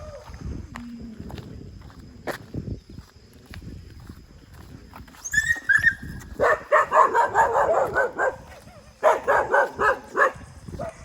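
Several dogs bark in loud, irregular bursts near the edge of a forest in Trinidad, close by, with footsteps on a road and faint outdoor background in between.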